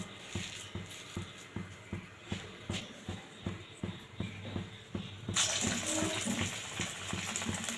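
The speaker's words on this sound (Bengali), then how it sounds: "তেলটা আমার গরম হয়ে গেছে। এবার আমি পকোড়াগুলো ভাজবো।" Soft rhythmic kitchen knocks give way to a sudden, sustained sizzle as pakoras hit the hot oil and keep frying.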